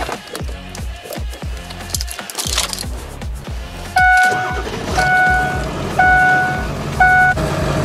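A Ford F-350 turbo diesel pickup cranks with rhythmic starter thumps, then catches and settles into a steady idle while a chime beeps at regular intervals, loud and close.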